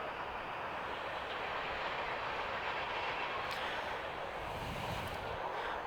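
A train rolls along a track about 200 yards from a baseball field, giving a steady, continuous broadband rumble and roar that stays even in level throughout, with no voices over it.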